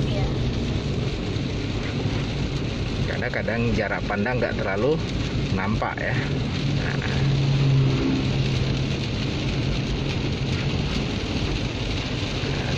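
Rain falls steadily on an automatic car being driven in a beginner driving lesson, a constant wash of rain and road noise while a person talks over it.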